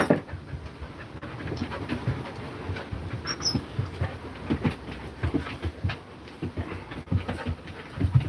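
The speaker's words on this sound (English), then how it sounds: "Does anybody want a free Cocker Spaniel?" A Cocker Spaniel pants indoors in quick, rhythmic breaths that rise and fall steadily at moderate volume, with faint background clatter and no speech.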